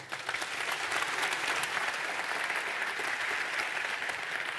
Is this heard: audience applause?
yes